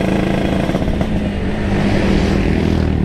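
A borrowed motorcycle's engine runs loud and close while riding through city streets, a dense throbbing drone with a slightly rough, uneven pulse and no talk over it.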